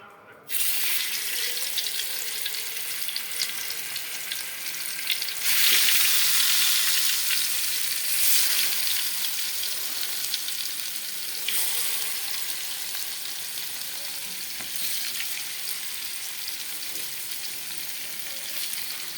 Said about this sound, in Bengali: এটা এখন তেলে ভেজে নিব, তারপরে রান্না করব।